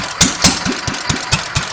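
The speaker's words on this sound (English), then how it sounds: "I think this engine's running quite well." Single-cylinder Petter A1 stationary engine running steadily, with regular rhythmic firing thumps about four per second, close and loud with no talk.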